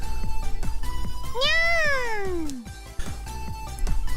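A cat in a video game gives one long, drawn-out meow that falls in pitch, over a steady, rhythmic musical beat.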